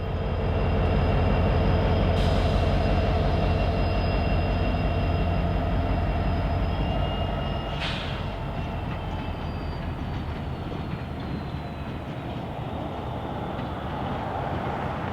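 A Kansas City Southern freight train, the Vicksburg local on a Mississippi main line, rolls past close by with a steady loud rumble, clanking cars and squealing wheels throughout, with no talk.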